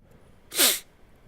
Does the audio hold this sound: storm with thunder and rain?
no